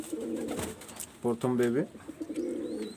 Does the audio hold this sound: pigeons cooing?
yes